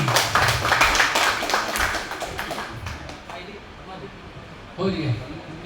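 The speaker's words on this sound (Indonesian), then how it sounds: "tepuk tangan dulu Pak." Audience applause breaks out at an inauguration ceremony for a new APTA chairman in Talang Andih, Balaraja: a dense burst of clapping for about three seconds that thins and fades, with voices talking throughout.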